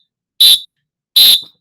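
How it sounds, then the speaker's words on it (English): A playground whistle is blown indoors in an office, giving two short, loud, shrill blasts separated by a brief pause, with silence around them. "Oh, I love blowing my whistle in my office."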